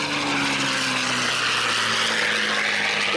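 A P-51C Redtail Mustang propeller plane passes at an Air Force base air show, its engine a loud steady roar with a droning hum that shifts downward in pitch as it goes by.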